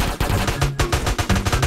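Rapid gunfire in an Indonesian San Andreas DYOM mission, dense bursts of loud repeated shots close up with no talk over them.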